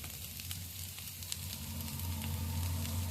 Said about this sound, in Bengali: এবার এগুলোকেও ভালো করে নেড়ে চেড়ে কয়েক মিনিট ভেজে নিচ্ছি।